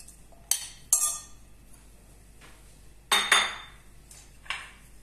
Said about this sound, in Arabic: هاد الاناء، يعني راح نخلط كامل هاد المكونات